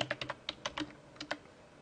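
Computer keyboard typing a name, about a dozen crisp close keystrokes in short uneven bursts, then a brief pause and two final taps.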